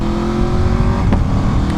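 Aprilia Xtrenta 1100cc track motorcycle engine running loud and close, a steady rough roar with brief crackling pops around each shift, no voices.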